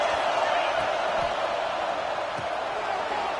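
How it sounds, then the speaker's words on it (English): Football stadium crowd roaring to fire up the defense before a red zone stop, a dense, steady wall of cheering noise that holds loud and unbroken throughout. "And here comes the noise. This crowd is trying to inspire this defense to make a big red zone stop."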